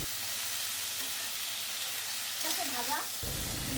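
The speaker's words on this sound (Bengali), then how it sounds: "সাজনা ডাটাটাও ভেজে নেব" Moringa drumstick pods fry lightly in oil in a pan, giving a steady close sizzling hiss. A brief voice rises near the end.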